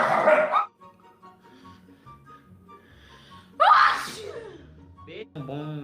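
Several loud, explosive human sneezes burst out near the start and again midway, with quieter voices and breathy sounds between them and a short vocal tail at the end.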